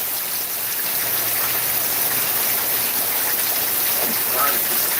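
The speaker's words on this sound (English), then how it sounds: "This rain coming down sideways." Heavy rain blowing sideways through wet city streets, a steady broadband wash of falling water close to the microphone, constant in level for the whole stretch with no voices heard.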